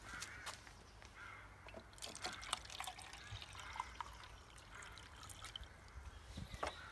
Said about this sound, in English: I'm going to pour it into my rain gauge